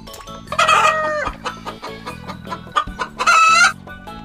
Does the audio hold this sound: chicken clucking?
yes